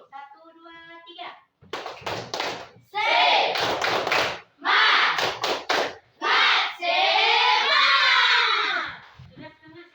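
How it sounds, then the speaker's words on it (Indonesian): A class of students does the rhythmic 'tepuk semangat' spirit clap, with loud bursts of patterned clapping interleaved with chanting young voices, close and energetic. "Ayo kita tepuk semangat dulu."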